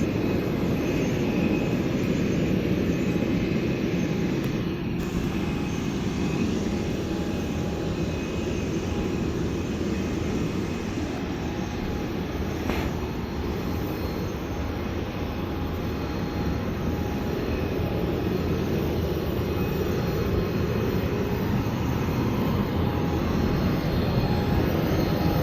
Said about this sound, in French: vols qui décollent